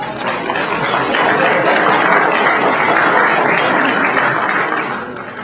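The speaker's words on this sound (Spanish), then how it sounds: "Un aplauso para la señora." A room full of people applauds loudly and continuously, a dense wash of clapping that tapers slightly at the end.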